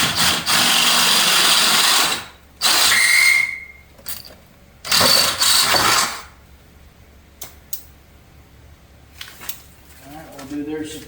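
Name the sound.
drilling out with a drill bit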